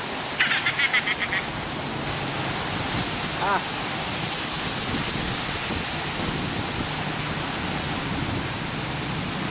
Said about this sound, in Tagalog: lakas ng ulan dito ngayon sa bayan ng Masbate